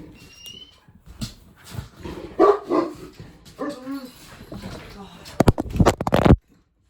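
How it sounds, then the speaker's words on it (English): Several dogs barking outdoors near a fence, with bursts of barks and yips rising loudest toward the end, mixed in among a person talking. "Oh my God, now the dogs are out."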